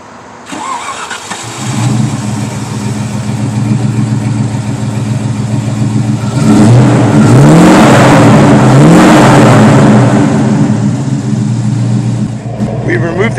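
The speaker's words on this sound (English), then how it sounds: "we'll go ahead and give her a start up so you can hear what it sounds like" A 1994 Land Rover Range Rover Classic with straight pipes from the headers and catalytic converters removed cranks and fires up, settling into a loud, rumbling idle, then revs up twice in rising surges before easing back down, close by.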